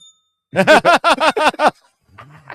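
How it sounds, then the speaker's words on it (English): A small bell rings in a quick series of about six bright, ringing strikes, close and fairly loud, followed by a faint low murmur. "That's a good bell. It sounds like the pizza's ready."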